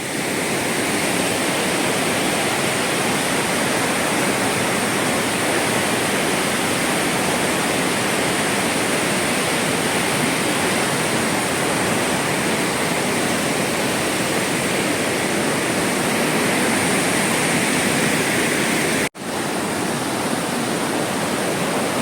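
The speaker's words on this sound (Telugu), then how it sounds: "వర్షాలు ప్రారంభం కావడంతో ఈ యొక్క ప్రవాహం చాలా ఉధృతిగా ఉన్నది" A river in flood rushes with a constant, heavy roar, loud and close, continuing unbroken apart from a brief cut near the end.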